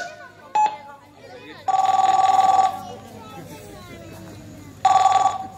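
A telephone rings during a call in a family skit, with a brief blip followed by two loud, close electronic ring bursts spaced a few seconds apart, with children's voices and background chatter.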